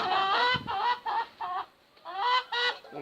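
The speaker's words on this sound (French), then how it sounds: "mon coq là" A rooster on a small poultry farm gives a run of close, fairly loud clucks and short throaty calls in irregular bursts, with a brief pause midway before another cluster of calls.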